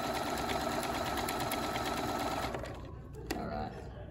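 Sewing machine stitching a fabric postcard appliqué piece, a fast steady mechanical whir with rapid needle ticking that runs close and loud, then slows and stops near the end.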